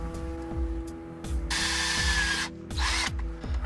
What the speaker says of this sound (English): we're going to drill sort of on the outside of the seal like that